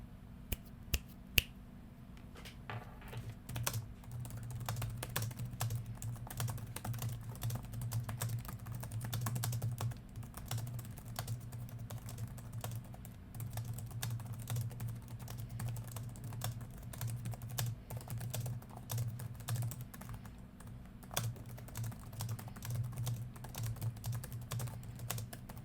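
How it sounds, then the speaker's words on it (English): Steady typing on an HP Omen 15 laptop keyboard, soft rapid clicks continuing throughout, close and fairly quiet, over a low electrical hum. "It has a nice tactile feel, it's not too loud, and it feels great to type things on."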